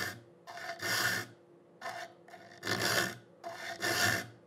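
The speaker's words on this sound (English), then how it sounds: "When I drop the saw file into one gullet that I've cut the relief in with the hacksaw blade" A saw file rasping in a saw-tooth gullet that has been relieved with a hacksaw blade, heard as five rhythmic back-and-forth strokes, close and gritty, with brief pauses between.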